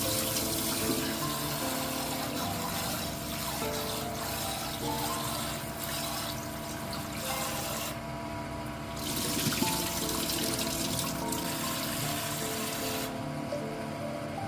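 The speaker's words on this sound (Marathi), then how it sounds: "अशा प्रकारे मुगाची डाळ स्वच्छ धुवून घेऊया" Tap water runs steadily into a bowl as split mung dal is rinsed clean before soaking, a constant splashing trickle with no talk.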